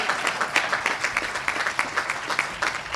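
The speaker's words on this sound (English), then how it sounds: "You can applaud them." An audience applauds at a ribbon cutting ceremony, giving a short burst of steady, fairly loud clapping from a crowd.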